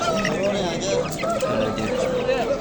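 Chickens and roosters cluck and squawk together in a busy, noisy poultry market in Andijan, Uzbekistan, with a steady din of mixed background sounds.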